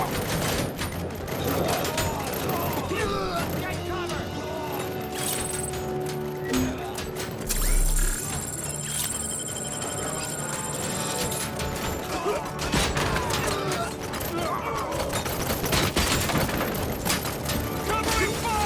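Near-constant rattling gunfire and mechanical clanks fill a firefight in the RoboCop game Rogue City, and voices shout over the dense shooting.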